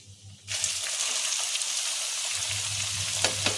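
Onion dropped into hot oil in a pan for shredded chicken: a sudden loud burst of sizzling that settles into steady, close crackling frying, with a low hum underneath and a few sharp stirring knocks.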